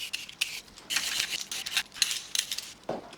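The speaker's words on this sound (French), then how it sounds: "Je vais maintenant éplucher et puis découper les carottes." Carrots being peeled and cut in a home kitchen during autumn meal prep, with a run of short, close scraping and chopping bursts in an irregular rhythm and no talking.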